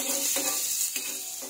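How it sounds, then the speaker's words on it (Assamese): Dried chillies and garlic sizzling in hot oil in a pan, a steady close crackle with a few brief stirring scrapes, no voices. "শাকৰ কাৰণে শুকান জলকীয়া ভাজি আছোঁ নহৰু দিছোঁ"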